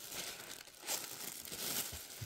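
Paper wrapping crinkles and rustles as an Ace Grading box is unpacked to reach graded Lando Norris and Carlos Sainz Black Edge cards, with steady close handling noise over about two seconds and brief tearing-like bursts.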